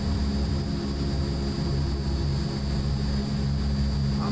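A Transall C-160 turboprop using reverse thrust after landing in Microsoft Flight Simulator 2020: a steady, loud, droning engine roar with a constant high whine, continuous throughout.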